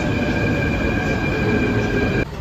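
A metro train arrives at a station, a loud, steady rumble with high squealing wheel tones sustained throughout, cutting off abruptly near the end.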